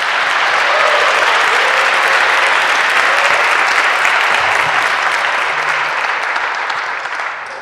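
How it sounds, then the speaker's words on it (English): Sustained applause from a seated audience honoring panel speakers at a community food pantry event, a dense, steady wash of clapping lasting several seconds and tapering slightly at the end. "let's give them a round of applause again"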